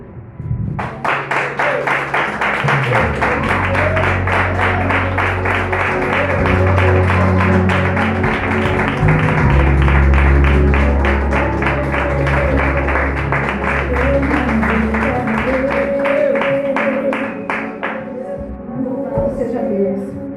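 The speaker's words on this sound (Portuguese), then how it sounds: "Irmãos, vamos aplaudir o Senhor." A church congregation claps together in an evangelical service, the applause loud and sustained for about eighteen seconds before tapering off, with music or singing underneath.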